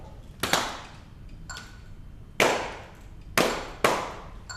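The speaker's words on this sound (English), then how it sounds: "Now, clap this with us." Hands clap a slow rhythm in an indoor music lesson: five sharp claps, close and loud, spaced irregularly with a ringing decay after each, no talking.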